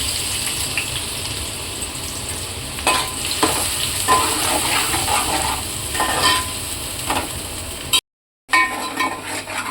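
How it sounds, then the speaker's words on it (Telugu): Chopped onions fry in oil with a loud, continuous sizzle and intermittent stirring scrapes, cut by a brief silent gap near the end before the sizzling resumes. "ఉల్లిపాయలు అయితే కొంచెం బాగా మగ్గుతున్నాయి కదండి."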